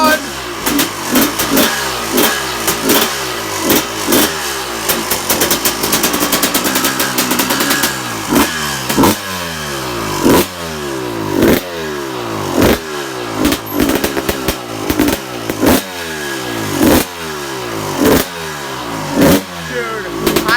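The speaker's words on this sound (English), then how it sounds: "Dude, I haven't heard a two-stroke in like 20 years, bro." A 2006 Suzuki RM250 two-stroke motorcycle engine revs loud and close, its sharp crackling exhaust rising and falling in repeated throttle blips after a first-kick start.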